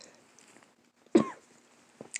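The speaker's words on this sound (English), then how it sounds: "That cough was because I had taken a sip of something" One sharp, close cough rises out of near silence, followed by a couple of smaller throaty catches.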